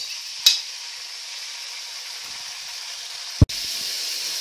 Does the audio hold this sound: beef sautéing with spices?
yes